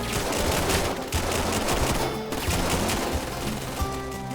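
Rapid, sustained automatic gunfire from the video game VAIL, loud and close, with dense overlapping bursts running almost continuously and only brief dips between volleys.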